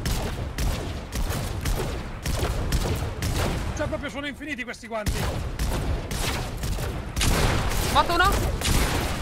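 Rapid bursts of enemy gunfire from the video game Fortnite crackle almost continuously, loud and dense, with a brief lull midway; a voice speaks over the shooting.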